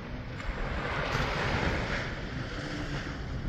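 Surf washes at Smiths Beach in southwest Western Australia as a steady, continuous roar of waves mixed with wind buffeting the microphone, with no voices.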